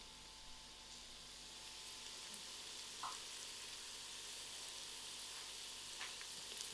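Carrots and celery fry with garlic in a pressure cooker pot, making a steady, quiet, airy sizzle with one or two soft clicks and no voices.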